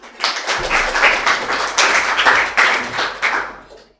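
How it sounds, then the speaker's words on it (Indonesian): An audience claps hands in a classroom setting, a burst of many quick overlapping claps that rises, holds for several seconds and then fades out, with no talking. "Ya, tepuk tangan."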